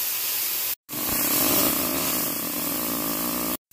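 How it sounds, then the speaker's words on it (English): Strawberries sizzle in a hot pan, a steady close hiss with crackling, cut by two brief silent gaps, with no talk. "Let's do the strawberries first. Let them sizzle."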